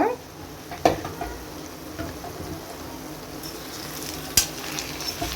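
Curry leaves with a little chilli frying in a pan for a brinjal and green chilli curry, a steady close sizzle with occasional sharper pops and stirring clinks.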